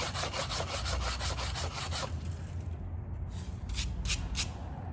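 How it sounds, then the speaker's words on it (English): An old brake pad is rubbed back and forth on concrete in steady, rapid scraping strokes for about two seconds, then a rougher continuous grind follows with a few more short rubbing bursts near the end, all close and fairly loud. "So you can literally put it on the concrete and just rub it back and forth."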